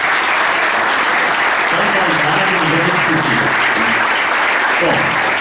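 Sustained applause from the audience at a formal ceremony honouring teachers, dense and steady for several seconds with a few voices mixed into the clapping.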